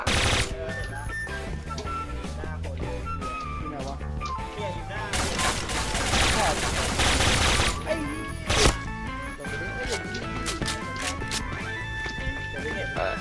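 Continuous rapid gunfire from the Point Blank video game, dense bursts of automatic shots with cracks and crashes throughout, loud and sustained, while a player talks over it.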